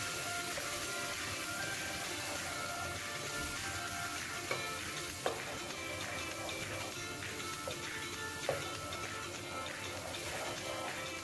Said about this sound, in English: Saute it in the hot oil.